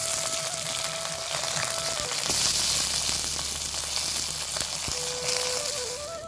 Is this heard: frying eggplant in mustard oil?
yes